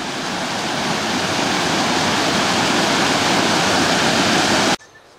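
Loud, close roar of the waterfall at Gara Gorge in Oxley Wild Rivers National Park, a dense steady rush of falling water that holds for nearly five seconds before cutting off, no talking.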